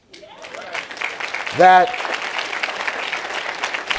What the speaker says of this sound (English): deserves an applause.